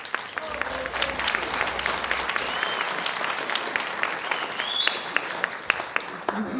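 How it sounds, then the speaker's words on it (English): A concert audience applauds steadily before a new-music premiere, a dense, even wash of clapping with a few sharper individual claps standing out near the end. "You may want to hold those applause until you've heard what happens."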